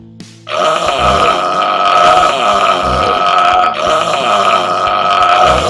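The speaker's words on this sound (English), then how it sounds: "That's the biggest burp I've ever heard!" A long, loud, deep burp in a playful burping contest, bursting out after a brief quiet moment and rumbling on for several seconds with rising and falling pulses.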